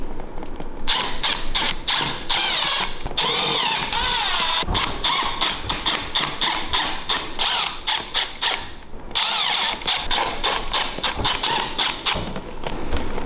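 A power drill drives Phillips head screws into a part of a 105cc mini bike during assembly, heard as loud repeated bursts of whirring with short pauses and thumps between them, close up and with no talking.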